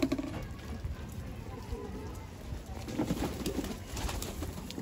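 A pigeon near a rooftop water basin coos softly and repeatedly against a low background murmur, with faint patters and shuffles scattered through.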